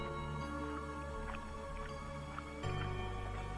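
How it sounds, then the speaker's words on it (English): A wet, squelching smacking noise in a horror video game, Death Mark, repeats irregularly over a constant low ambient hum, moderately loud with no talking. "all he could hear was this weird smacking noise"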